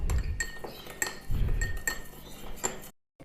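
A spoon clinks repeatedly against a bowl while sauces and a little vinegar are stirred together for chilli paneer, with a quick, uneven run of close, bright taps that stops abruptly.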